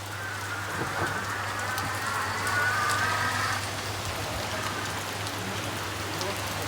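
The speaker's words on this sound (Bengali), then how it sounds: "ভালো বৃষ্টি হচ্ছে দেখেন আবহাওয়াটা কেমন বৃষ্টি মনে হচ্ছে জোরে নামতেছে" Heavy rain pours steadily on surfaces nearby, a constant dense patter with a low hum underneath and a faint tonal squeal midway.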